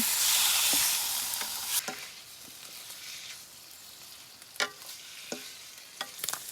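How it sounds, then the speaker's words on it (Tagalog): Pork sautés in a pan until golden brown, starting with a loud burst of sizzling that settles into a steadier fry, with scattered clacks from stirring. "Gisa muna natin itong karne hanggang mag-golden brown."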